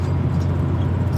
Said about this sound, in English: We're in my Volvo 850 TDI.